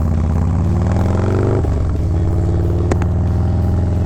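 A 2019 Harley-Davidson Softail Street Bob with the Milwaukee-Eight 107 V-twin and an aggressive cam rumbles steadily and loudly up close, its low throbbing engine note briefly broken by a short mechanical clatter partway through.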